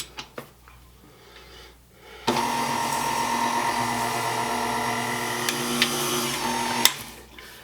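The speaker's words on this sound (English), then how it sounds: "we're just going to go ahead and whisk this together just till it's just combined" An electric mixer whisks s'mores batter made with crushed ingredients, a steady whirring drone that starts abruptly after a few soft knocks, runs evenly for several seconds close up, then cuts off.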